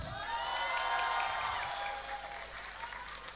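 Audience applause at a political campaign event in Metro Lampung, a dense crowd clapping steadily at moderate distance for a few seconds, tapering slightly toward the end with no voices over it.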